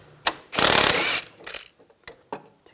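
A 17mm socket on a ratchet removing the sway bar link nut on a 2004-2009 Toyota Prius, close and loud: a quick burst of rapid ratchet clicking, followed by a few scattered metallic clicks and clunks.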